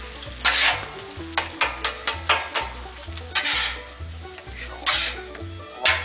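Eggs sizzle on a hot Blackstone flat-top griddle while a spatula scrapes and taps repeatedly in an uneven rhythm, close and loud, with no speech.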